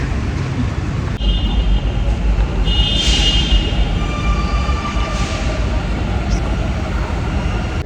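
Train running on a metro line in Bengaluru, a steady loud rumble with high squealing tones rising over it, with people talking faintly beneath the continuous noise.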